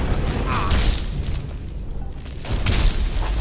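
An explosion spell cast in Skyrim, a loud booming blast from a fantasy role-playing game, with two broad surges of rumbling noise over continuous game ambience.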